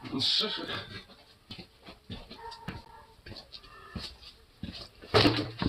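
A pet dog pants and breathes in quick bursts close by in a backyard setting, the rhythm uneven and broken by pauses, with a person talking intermittently over it.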